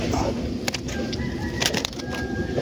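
Tree sparrows (maya) chirp in short, sharp calls over a loud, constant outdoor background, some calls overlapping, heard close within a noisy bird-catching setting.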